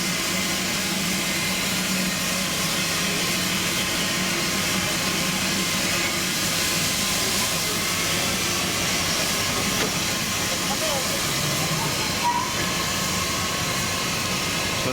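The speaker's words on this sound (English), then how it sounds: "We're going backwards now into this siding" A Darjeeling Himalayan Railway train reverses off the main line into a siding, giving a continuous, loud, broadband rumble and steam-like hiss that stays steady throughout, with no speech.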